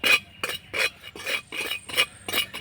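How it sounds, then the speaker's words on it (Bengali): Salt dry-roasts in a wok while a spatula stirs it in seven regular scraping strokes, each a bright gritty rasp against the metal, close and clear with no talk. "লবণটা একটু শুকনো খোলে নাড়াচাড়া করে ভেজে নেব"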